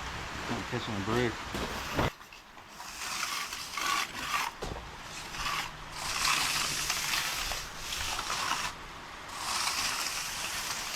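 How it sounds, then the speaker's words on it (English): Steady rain falls during a concrete pour on Hawaii's Big Island, a broad, continuous hiss of drops that swells and eases over about eleven seconds, with voices faintly present beneath it. "Damn rain, man."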